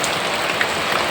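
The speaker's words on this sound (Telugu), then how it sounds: "ఇంత వర్షం వచ్చింది మా ఊర్లో" Heavy rain pours down over a village in Andhra, a dense, steady hiss of drops hitting surfaces, loud and unbroken for the whole brief moment.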